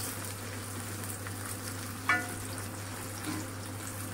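Green peas fry lightly in a pan for an Indian spinach, potato and eggplant sabzi, a soft steady sizzle with a low hum beneath and a brief clink of stirring.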